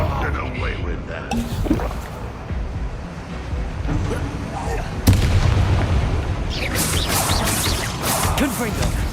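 A Confringo fire spell explodes in Hogwarts Legacy amid a chaotic battle, a loud sudden blast followed by sustained rumbling roar and crackling effects, with character voices shouting over it.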